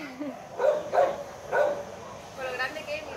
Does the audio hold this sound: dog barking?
yes